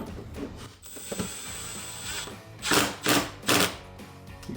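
An impact wrench set to low power drives bolts on an aluminum replacement radiator in a 2009-2017 HEMI Charger. It fires three short, loud, rattling bursts near the end, after quieter mechanical clicks, with no speech.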